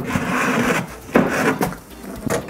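A wooden stair step being released and lifted out with a glass suction cup inside a converted century-old gymnasium, close bursts of wood knocking, creaking and rubbing in uneven short pulses.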